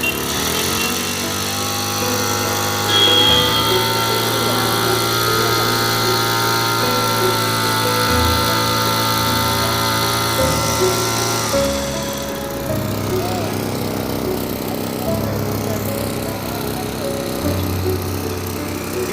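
A small petrol engine on an Aspee 766A power sprayer runs steadily and loudly throughout, its pitch dropping partway through as the revs ease off.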